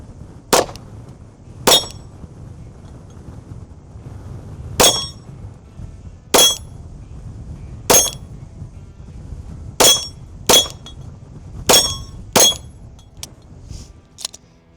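Gunshots ring off steel targets in a cold outdoor setting, about a dozen sharp metallic clangs spaced irregularly over steady low background rumble, each impact crisp and bright.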